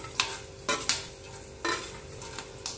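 Coriander seeds sizzle in a little hot oil in a pan while a masala is started. A soft, constant crackle runs underneath, broken by several sharp stirring scrapes close by.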